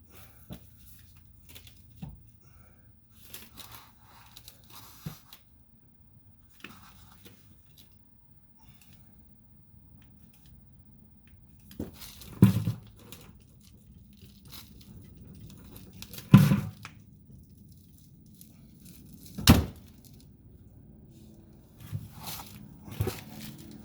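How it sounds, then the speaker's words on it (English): Grease gun pumping grease into new sway bar fittings on a 2008-2016 Chrysler Town & Country: a few sharp, separate pump clacks a few seconds apart, set against quiet handling rustles and long near-silent gaps. "we're gonna go ahead and give it a couple pumps of grease with a grease gun"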